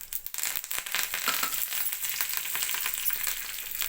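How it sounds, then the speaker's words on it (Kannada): Tempering for tambuli, with finely chopped dried red chillies, crackles and sizzles steadily in hot oil, a close, continuous frying hiss with small popping spatters throughout. "ಇದಕ್ಕೆ ಸ್ವಲ್ಪ ಒಗ್ಗರಣೆ ಹಾಕ್ತೀನಿ"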